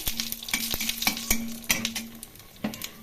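Dried red chillies and cumin seeds fry in oil for a tempering, crackling softly under repeated sharp clicks and scrapes of a spatula stirring in the pan, close and without speech.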